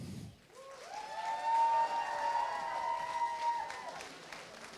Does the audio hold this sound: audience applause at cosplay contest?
yes